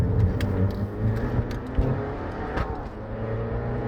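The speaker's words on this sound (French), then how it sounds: "écoutez-moi, passage de rapport" An Abarth 595 engine hums and revs from inside the cabin, with a brief dip and surge as the gear shifts.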